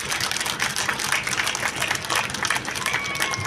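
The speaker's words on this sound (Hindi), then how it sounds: "जोरदार ताली से स्वागत करें आप लोग" Audience applause welcoming participants at a Dhamma Vijay Day ceremony and cultural programme in Greater Noida, a dense, steady wash of clapping lasting throughout with a faint crowd murmur underneath.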